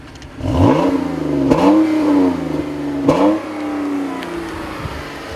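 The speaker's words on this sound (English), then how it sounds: "I wasn't expecting this engine to sound so throaty, but it actually does sound pretty good." A 2015 Chrysler 200 V6 engine revs up hard several times in succession, each throaty rise followed by a drop, close and loud, with no talking.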